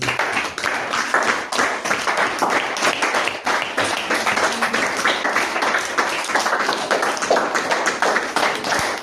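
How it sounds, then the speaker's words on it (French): A church congregation applauds for the Lord Jesus, with sustained, dense clapping of many hands at a steady, lively pace and no voice on top. "Applaudissons pour le Seigneur Jésus."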